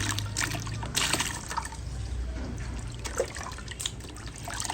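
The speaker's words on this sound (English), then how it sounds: "we are washing the red first because the red is the larger part of the fabric" Red tie-dyed fabric is washed by hand in water, with continuous sloshing, splashing and trickling close by, in irregular bursts of swishing movement.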